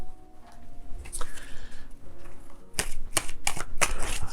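Tarot cards riffle and snap close by, a soft shuffle followed by several sharp, quick flicks in a row, with no talking.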